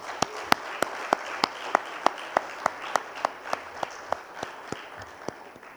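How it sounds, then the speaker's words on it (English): An audience at a closing-remarks event gives a round of applause: a run of evenly spaced single loud claps, roughly three per second, over a soft steady background, fading slightly toward the end. "Maybe we can give a round of applause for them."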